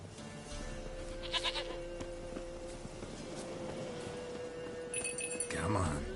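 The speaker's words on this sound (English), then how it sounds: "Here, goat. Here, princess. Hoofed and horned. Should have known it would be stubborn." A goat bleats in The Witcher 3: Wild Hunt, a few short bleats over steady ambient game music and background noise, with a brief louder burst near the end.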